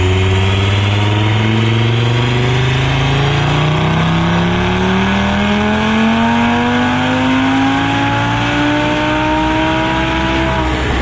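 A tuned Audi RS3 or TTRS five-cylinder engine pulls hard on a dyno, a loud, close, continuous roar whose pitch climbs steadily through the full rev range without a break. No talking.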